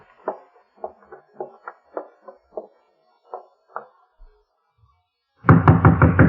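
Knocking on an apartment door in a radio drama, heard as a series of sharp, close wooden raps in an irregular rhythm, followed after a pause by a louder, denser burst of rapid knocks.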